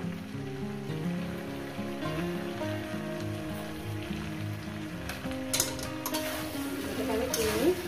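Four whole dried chillies with salt being sautéed in a pan: a steady low sizzle with stirring throughout, close by, and a few sharper scrapes and clatters toward the end.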